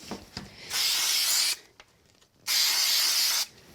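Two sustained bursts of aerosol spray glue hiss loudly, each lasting about a second, separated by a short quiet gap with faint handling noises.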